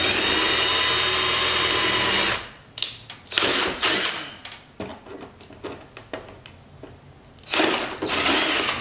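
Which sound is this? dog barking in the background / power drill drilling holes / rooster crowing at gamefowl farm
power drill drilling holes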